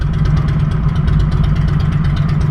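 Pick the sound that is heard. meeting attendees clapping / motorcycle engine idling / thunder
motorcycle engine idling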